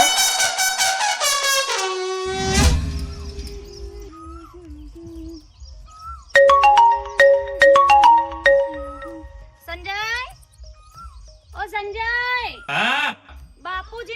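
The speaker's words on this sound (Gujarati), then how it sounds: "ફોનમાં કોઈનો ફોન આવે છે" An incoming call on a phone plays a chirpy electronic melodic ringtone with birdlike warbles, horn-like blasts and rising tones, loud and busy throughout the passage, with people talking over parts of it.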